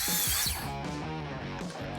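A power saw rips a 2x4 lengthwise at 1.5 inches, giving a loud, continuous motor whine with a rough cutting edge to it throughout the short burst.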